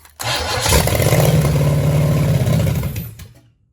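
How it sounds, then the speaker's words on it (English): A 1966 Chevelle's small-block Chevy V8 cranks and catches, then runs rough and uneven, misfiring rather than idling smoothly; loud and close for about three seconds before cutting off. "I mean, she fired, but yeah, I don't think she's firing on all cylinders."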